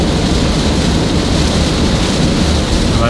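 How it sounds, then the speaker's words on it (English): Heavy rain pours steadily and loudly on a golf course, a dense, continuous hiss close to the microphone with a low rumble beneath it throughout. "if it rains this hard"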